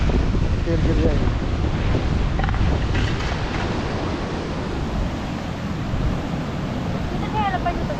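Strong wind gusting across a mountain road near Manali, a loud continuous rushing roar buffeting the microphone throughout, with faint voices underneath.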